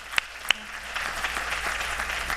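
Audience at a leadership panel on diversity applauding an award recipient: two sharp early claps, then steady clapping from the room that builds and holds to the end.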